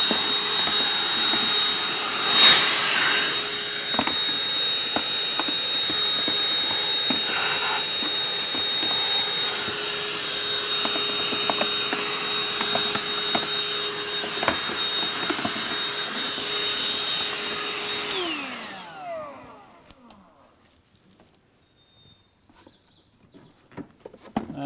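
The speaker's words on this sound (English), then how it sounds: "be sure and get in here with a vacuum and vacuum out this air filter housing" Vacuum cleaner sucking leaves and debris out of a car's air filter housing, a loud steady roar close by with scattered rattles and clicks of debris, then winding down and stopping near the end.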